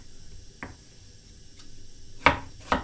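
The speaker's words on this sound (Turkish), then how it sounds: "Hemen soğanlarımı soyayım. Doğrayayım." A kitchen knife chops peeled onions on a board, giving a few separate, sharp thuds with long pauses between them, close and moderately loud over a faint background hum.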